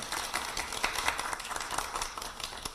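Applause from an audience at a People Power Party capital market meeting in Korea, a moderately distant patter of many hands with uneven swells and individual sharp claps, steady for the full span without speech.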